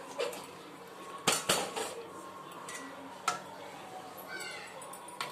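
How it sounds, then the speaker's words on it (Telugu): A metal kadai set down on a stove, with sharp clattering clanks of cookware and a few lighter metallic taps, close and distinct against a quiet room. "నేనైతే స్టవ్ ఆన్ చేస్తున్నాను స్టవ్ ఆన్ చేసేసి కడాయి పెట్టేసుకొని"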